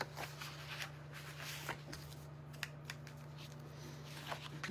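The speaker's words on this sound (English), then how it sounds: "let me cut that tape off" Soft snips of scissors cutting tape off a scrapbook paper iris-folding heart craft, a few quiet clicks and rustles close by, faint under a steady low hum.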